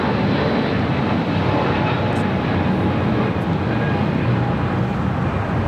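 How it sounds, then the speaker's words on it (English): A United Airlines Boeing 777-200 takes off from LAX bound for Washington Dulles, a loud, steady broadband jet engine roar that holds at an even level throughout, with faint radio chatter underneath. "1635 taking off to Washington Dulles on a 777-200"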